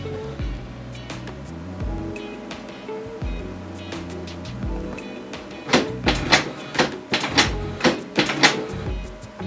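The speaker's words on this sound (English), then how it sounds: "wait a minute for the initial process while printer may make some noise" Mechanical whirring and clunking of a Canon PIXMA inkjet printer initializing, with motor hums and a run of sharp rhythmic clicks and ratchets growing louder near the end.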